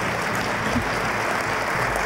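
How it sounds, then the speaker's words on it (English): Audience applause at a speaking event honoring the founders of a human services organization, a full, even roar of many hands clapping, steady and fairly loud without pause. "another round of applause"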